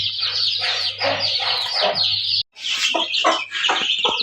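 A hen clucks steadily while chicks cheep and peep in a busy, high-pitched chorus close by, with a low hum underneath and a brief cut midway.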